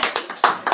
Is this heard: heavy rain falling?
no